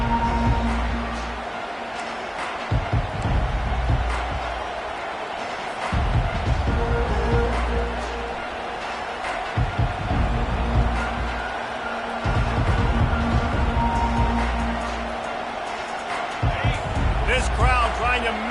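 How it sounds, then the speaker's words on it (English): A college football stadium crowd between Michigan State and Notre Dame gives off a broad, sustained roar that swells and dips, with occasional sharp thumps, while a commentator talks over it. "This crowd trying to make life miserable for this offense."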